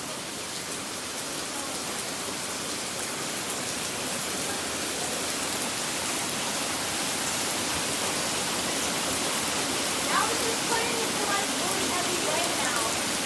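Steady rain falling outdoors after a spell of small hail, a constant soft hiss of drops on surfaces at moderate distance, with no clear breaks across the whole stretch.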